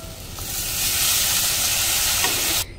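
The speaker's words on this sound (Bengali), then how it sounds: "এবার আমি পরিমাণ মতন জল দিয়ে দেবো।" A loud, steady hiss and sizzle rises as water hits a hot pan of sautéed potatoes for a tilapia fish curry, holding strong for a couple of seconds before cutting off abruptly.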